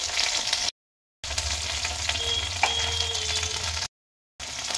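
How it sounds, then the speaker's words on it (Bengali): Okra frying in a pan while being stirred, a close continuous sizzle broken by two brief silent gaps, with scraping stir sounds and no voices. "ঢ্যাঁড়সটা এখন বেশ কিছুক্ষণ ধরে নাড়াচাড়া করতে করতে ভাজা ভাজা করে নিয়েছি"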